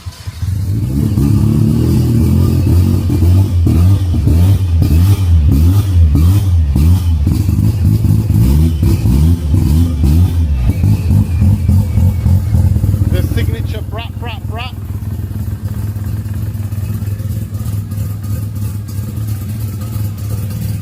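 An Australian-imported built 13B rotary in an E85-fuelled big-turbo drag car cranks and catches, holding a loud, choppy idle with sharp revs, then settling to a steadier drone near the end.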